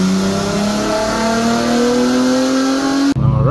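A tuned Infiniti Q50/Q60 VR30 engine roars on a dyno, its pitch climbing steadily through one long, loud pull before cutting off abruptly near the end.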